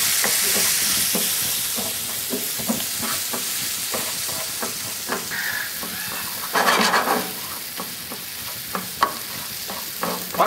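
Sweet red pepper frying with onion in a pan, a continuous close sizzle broken by repeated scraping stirs and clacks of the utensil.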